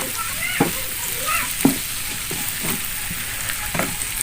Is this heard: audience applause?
no